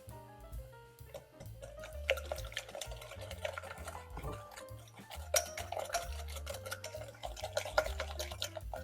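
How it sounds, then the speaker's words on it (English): Eggs and sugar for a lemon tart filling are whisked in a bowl, a quiet continuous scraping, clinking stir with light rhythmic taps of the whisk against the side. Background music plays softly underneath, and nobody speaks. "So now we whisk this all up."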